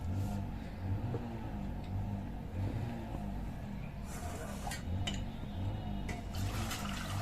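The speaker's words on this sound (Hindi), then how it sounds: "ये अच्छे से धो लिया इसको मैंने।" Homemade butter being washed by hand in a pot of water, with continuous sloshing and splashing, soft squelches and a low rumbling background, close and unbroken for several seconds.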